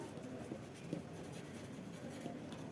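Pen or marker scratching steadily across a board or page as a work-and-time math problem is written out, soft and close with small taps, no voice over it.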